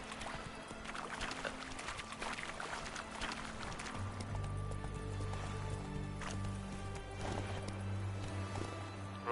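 Hooves of the horse Roach clatter steadily as it gallops in The Witcher 3, a continuous rhythmic clip-clop under game ambience, fairly faint throughout.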